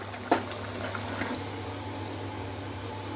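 Fish curry (machher jhol) simmers in a pot, a soft steady bubbling hiss with one sharp clack near the start.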